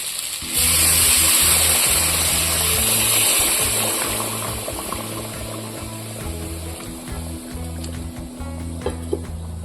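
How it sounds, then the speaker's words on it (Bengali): Hot water poured into mutton frying in oil for kasuri mutton, a loud gushing splash at the start that settles into a steady bubbling hiss, close and continuous, with a low tonal hum underneath. "এবার আমি গরম জল দিয়ে দেবো এর মধ্যে।"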